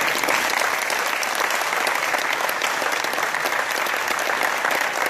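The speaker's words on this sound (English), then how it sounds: "give them a round of applause for that" Sustained applause from a crowd honoring two baseball all-star kids at a welcome-home gathering, dense and steady clapping throughout without a break.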